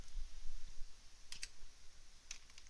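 Light keystrokes on a computer keyboard, a few quiet clicks in two small clusters against a faint low background hum.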